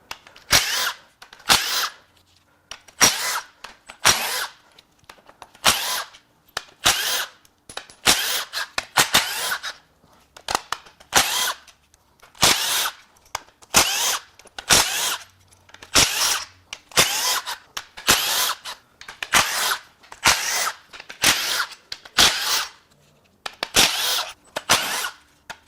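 A small power tool works off the crank pulley on a 2022 Ford F-150 with a 2.7L EcoBoost V6, firing in some twenty short, loud bursts with brief silent gaps between them.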